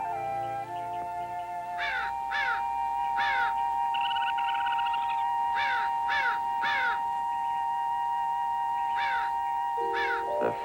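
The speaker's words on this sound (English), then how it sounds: "The first thing that attracted his attention was the tremendous variety of bird life in the area." Crows caw in the wild, their harsh calls coming in repeated bursts of two or three over a steady, sustained droning tone that runs throughout.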